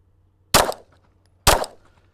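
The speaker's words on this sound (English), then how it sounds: "Let's do some shots here at 10, 15, and 25 yards, center mass, and see how we do." Two pistol shots are fired at 10 yards from a handgun fitted with a red dot sight, sharp loud cracks about a second apart with short decays and nothing else around them.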